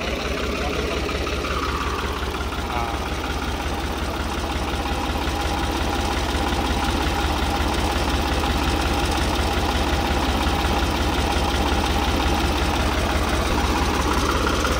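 An old New Holland tractor engine, revived after being submerged in water, runs steadily at idle with a dense, continuous diesel chug and slight knocking, loud and close throughout.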